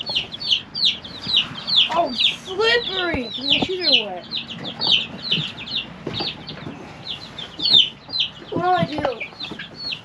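Chickens in a pen cluck and squawk repeatedly at close range, with sharp bursts scattered throughout as people talk over them.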